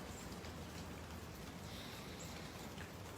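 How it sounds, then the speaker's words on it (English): Steady rain falls in a Florida backyard, a dense, even hiss of drops that fills the whole stretch with no voices over it. "One of those rainy days here in Florida, yes."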